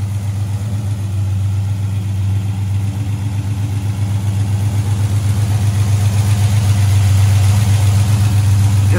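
A 1972 Chevelle with a 454 V8 and Turbo 400 transmission idles up close, a loud steady low rumble with a lumpy, rhythmic pulse that builds slightly toward the end.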